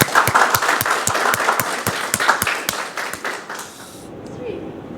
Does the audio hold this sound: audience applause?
yes